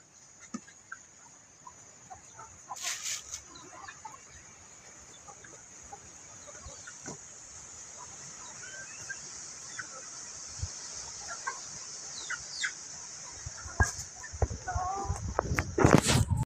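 Chickens cluck and squawk intermittently nearby, with scattered rustling and footsteps, growing busier toward the end.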